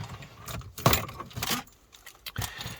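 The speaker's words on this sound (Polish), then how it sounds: "Tak, już wyciągamy kluczyki." A bunch of keys for a 2007 Volvo XC70 jangles in short metallic bursts close by, with a few soft clicks and rustles between them.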